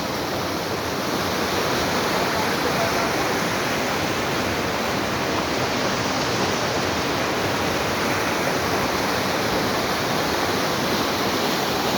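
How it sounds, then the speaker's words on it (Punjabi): Fast, cold mountain river in Himachal Pradesh rushing along in a loud, steady roar of churning water that fills the whole stretch with unbroken hiss and rumble, close by and with no voices. "ਭਈਆ ਪਾਣੀ ਦਾ ਖੜਕਾ ਹੀ ਆ ਸਾਰਾ ਆ ਵੇਖ"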